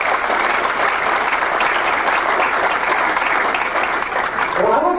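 A political caucus audience in Spokane gives a sustained round of applause, dense steady clapping that fills the whole stretch, with cheering voices rising near the end.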